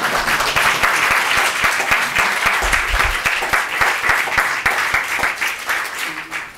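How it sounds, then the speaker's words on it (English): Audience applause at a book presentation for a history of Italian Americans, dense rapid clapping from a room full of people, loud and sustained before tapering slightly at the end. "Please welcome this book with a big applause."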